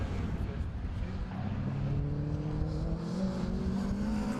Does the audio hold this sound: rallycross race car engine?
yes